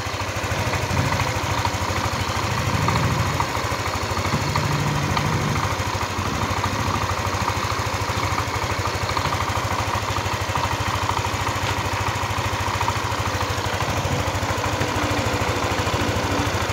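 A Yamaha NMAX scooter engine idles steadily while warming up after a top overhaul, a continuous close mechanical drone with no talk over it.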